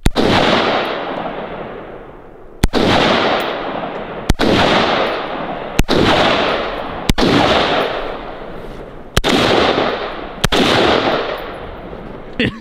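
Gunshots fired outdoors at a distant target, seven sharp loud reports spaced a couple of seconds apart, each followed by a long fading echo.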